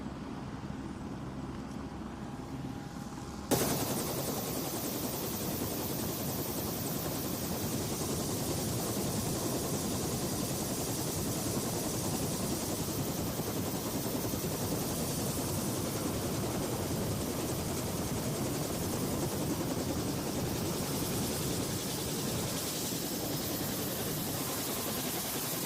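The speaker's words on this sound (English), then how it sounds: "So this will be our first time riding a helicopter." A helicopter carries passengers on a sightseeing flight in New Zealand, its engine and rotors filling the cabin with a loud, steady roar. The roar starts abruptly a few seconds in and stays constant with no talk.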